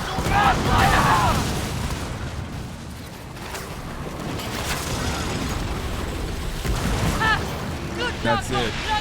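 Pirate ship cannons boom repeatedly in a video game, heavy blasts and bursts rolling over a dense battle din, with someone shouting over the firing.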